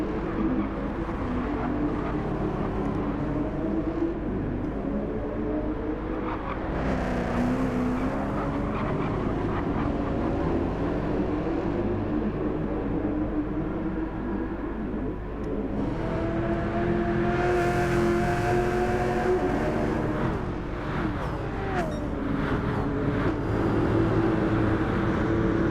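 V8 race cars in Gran Turismo 7 thunder around the Deep Forest track with a steady, loud engine roar, and the pitch rises and falls as cars pass one another. No talk is heard.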